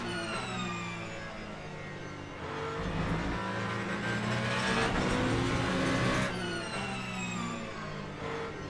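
A Ferrari race car in Le Mans Ultimate at Fuji revs hard and steady, its engine note climbing and falling through gear changes as it pushes for the lead, loud and continuous with no voices.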